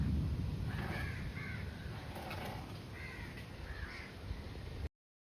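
A crow caws in repeated short calls, fairly clear against a windy outdoor background, ending abruptly.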